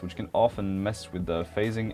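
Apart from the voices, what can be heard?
No distinct noise like a dog, phone or traffic.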